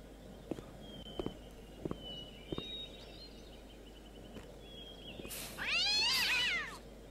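A cat in the video game Gabriel Knight 3 lets out one loud, drawn-out complaining meow after being sprayed with a spritzer, following a few soft taps and footsteps.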